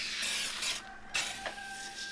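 Engine cleaner sprays onto a greasy engine and gearbox in short hissing bursts with brief pauses, close by and alone.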